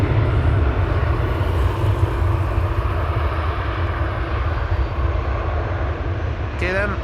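A KLM airliner departing Amsterdam Schiphol roars loudly and steadily with a dense rumble of jet engines, heard from fairly close throughout, with a brief chirping sound at the very end.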